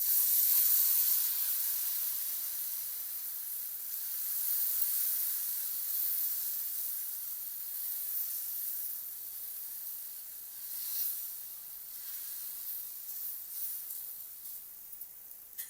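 Besan chilla batter on a hot oiled tawa gives off a loud, continuous hissing sizzle that slowly eases and steadies, with small crackles flaring late on.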